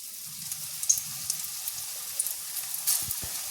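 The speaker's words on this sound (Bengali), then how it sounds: "আবার আমি আবার বড়া ভাজছি তো একটা একটা করে এইভাবেই সব কটা বড়া আমি ভেজে নেবো" Fritters frying one by one in oil give a soft, low sizzle close by, with a few faint crackles and light clinks throughout.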